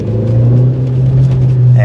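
Polo GTI 1.8 turbo car engine with a manual transmission, heard as a steady, loud low rumble and drone that holds throughout with a slight rise near the end, heard alone.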